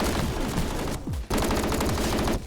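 Uzi submachine gun in a video game, fired in rapid continuous bursts with a short pause in the middle. The gunfire is loud and close, with no talk over it.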